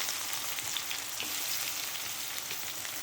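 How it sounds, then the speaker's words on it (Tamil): Chopped onion sizzles steadily in a pan of hot oil with urad dal and cumin, a continuous close frying hiss with no talking. "இதில் வந்து இந்த வெங்காயத்தை போட்டுக்குவோம்."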